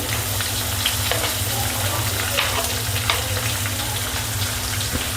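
Curry leaves, onion and green chili hit hot oil already holding cumin and mustard seeds, producing a loud, continuous close sizzle with scattered crackles and a few stirring sounds.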